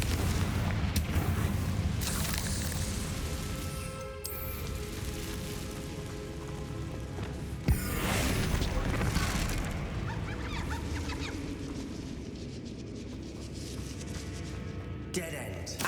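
Repeated Confringo blasting-curse explosions in the Hogwarts Legacy video game, with booming bursts and crackling debris over a busy game soundscape that stays loud throughout, including a sharp impact around the middle, while a voice talks at points.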